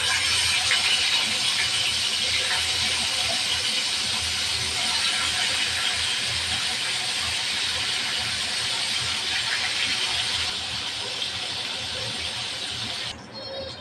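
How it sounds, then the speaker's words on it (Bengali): Koi fish frying in hot oil send up a loud, continuous bright sizzle with no talk, fading slightly near the end. "তেল গরম হয়ে গেছে, দিয়ে দেবো মাছ।"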